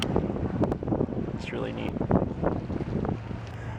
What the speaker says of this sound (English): I know it's windy, but whatever.